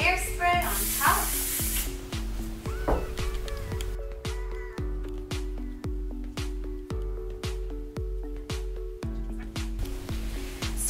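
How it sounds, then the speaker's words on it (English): A few quick hairspray spritzes hiss onto styled competition cheer hair near the start, then steady rhythmic background music carries on. "A few spritzes of hairspray on top."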